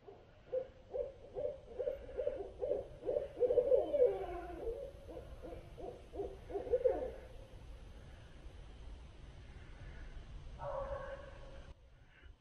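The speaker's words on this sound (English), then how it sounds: "Those owls just started kicking off." Owls hoot repeatedly at night in the North Carolina woods during hammock camping. The hoots come in rhythmic runs from close overhead, fairly faint against a quiet background, with no talking.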